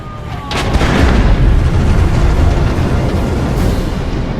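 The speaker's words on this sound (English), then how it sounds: "the sound of the barrage from the Dreadnought Gatling gun is immensely satisfying" Heavy, continuous barrage of Dreadnought Gatling gun fire in the Warhammer game Dawn of War 2, a loud sustained roar of booming shots that swells in after a brief quiet start and keeps pounding without pause.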